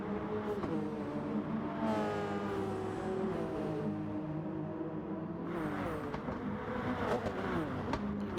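Turbocharged TSO 50 race cars in an endurance racing video game whine and rev continuously, with rising and falling engine tones and turbo whoosh layered over one another.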